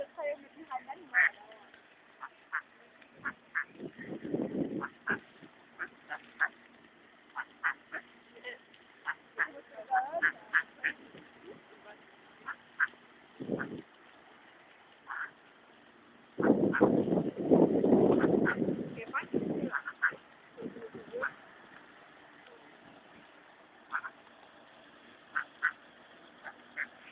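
Ducks and ducklings outdoors, with frequent soft quacks and peeps scattered throughout and louder bursts of quacking, while people talk nearby.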